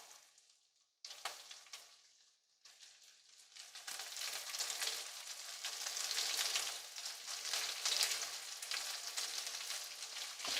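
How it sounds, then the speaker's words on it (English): Prawns go into a hot pan of chilli garlic, and a short burst of sizzling is followed by a brief pause. The frying then rises into a steady, crackling hiss that keeps getting louder. "And now we would add our prawn in."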